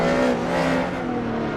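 Racing car engines roaring steadily at high revs in Assetto Corsa at Vallelunga, an Audi among them, a loud continuous drone with no talk.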